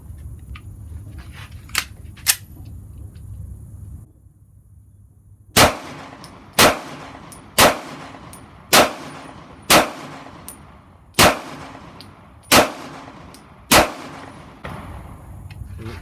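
A Remington RP9 pistol fires eight rounds of Hornady Critical Duty 135-grain FlexLock +P, each a sharp, loud crack with a ringing tail, spaced roughly a second apart after a quiet lead-in with two faint clicks.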